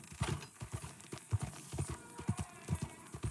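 Horse hooves clip-clop steadily in the Red Dead Redemption 2 video game, a regular walking rhythm of soft, close thuds with a faint whinny, and no talk over it.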